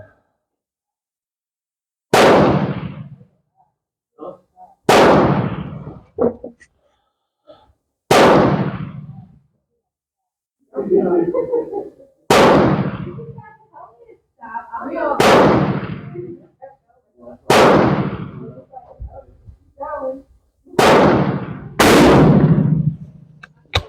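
A Portuguese Vergueiro rifle fires eight loud, sharp shots spaced a few seconds apart, each with a booming echoing tail, with brief talk and bolt handling between some shots.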